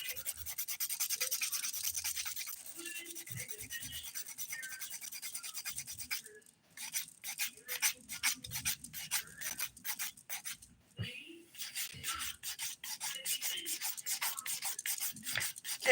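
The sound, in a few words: filing fingernails with a 180 grit nail file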